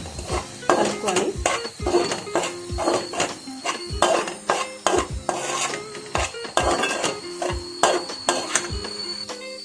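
A spoon scrapes and clinks against a metal pot over and over as salt and chili powder are stirred together for a drumstick curry, a steady close-up run of pan-scraping strokes with no talking.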